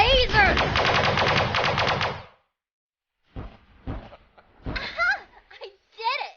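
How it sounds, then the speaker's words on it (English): Rapid laser fire in the space strategy video game Sunrider, a dense loud burst of repeated blasts lasting about two seconds, then scattered shorter zaps and chirping effects after a pause. "I'm a firing my lasers!"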